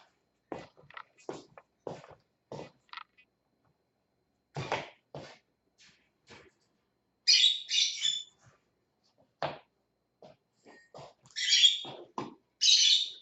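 Pet lovebirds, a kind of small parrot, loose indoors, giving scattered sharp chirps and several loud shrill squawk bursts, close by, amid soft clicks and footsteps and long quiet gaps.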